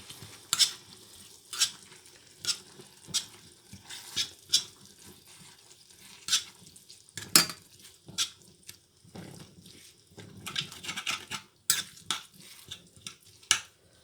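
Vegetables and lentils cook in a pan, with repeated scraping stir strokes of a utensil against the metal over a soft, continuous sizzle. No one speaks.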